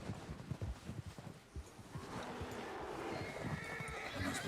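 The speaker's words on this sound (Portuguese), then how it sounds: "Cavalo." A horse in Red Dead Redemption 2 clip-clops along with soft, uneven hoofbeats, then lets out a drawn-out neigh over a rising rush of storm ambience, all fairly quiet.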